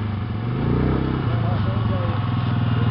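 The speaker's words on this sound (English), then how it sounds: "This is a Can-Am Bombardier 400." Can-Am Bombardier 400 ATV engine running on a ride, a steady throbbing low rumble that rises slightly as it revs, close and loud, with people talking over it.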